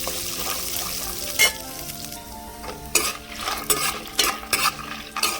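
Peanuts, green and dried red chillies and coriander seeds crackle and sizzle in a hot pan, with repeated scraping stirs and metallic clinks punctuating the steady frying hiss.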